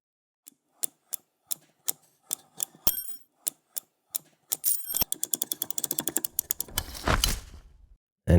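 Clacky keys of an Epomaker TH85 mechanical keyboard are pressed one at a time at first, then speed up into a fast rattling burst of typing, close and crisp.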